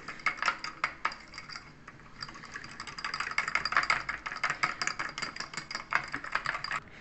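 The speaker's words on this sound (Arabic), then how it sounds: "غادي نخلط السكر مزيان مع الصفار ديال البيض" A whisk beats sugar into egg yolks for a layered entremet cake, a steady run of quick metallic ticks and scrapes against the bowl, close and fairly busy, with no talking.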